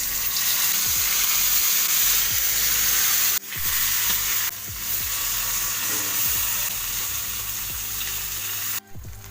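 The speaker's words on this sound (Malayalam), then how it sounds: "നമുക്ക് കുറച്ച് വെളിച്ചെണ്ണ ഒഴിച്ചിട്ട് മാന്തളൊന്ന് പൊരിച്ചെടുക്കാം." Dried fish frying in coconut oil, a loud continuous close sizzle with intermittent scraping and stirring clatter, a couple of sharp knocks, no talking.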